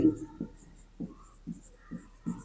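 Pen on paper during a math lesson working a polynomial problem: six short scratchy strokes in an uneven rhythm, close and quiet against a near-silent room.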